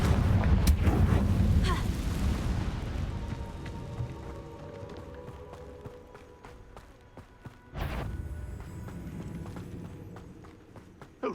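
A Confringo blasting spell goes off in Hogwarts Legacy, a loud burst of rumbling impact noise that fades over several seconds, then a second sharp blast with a rolling tail.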